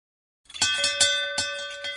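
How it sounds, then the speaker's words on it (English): A metallic dinner gong peals to call a household to lunch, several ringing strokes with a sustained shimmering tone between them, loud and alone. "Then the gong pealed out, and we all went in to lunch."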